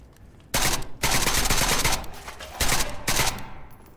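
Gunfire in the video game SCP: Pandemic, loud rapid bursts of automatic fire in several close volleys with short pauses between them.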